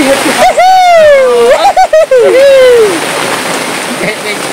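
Heavy rain pours steadily over an outdoor tarp cabin, a dense hiss running throughout, with a loud voice sounding over it in the first few seconds.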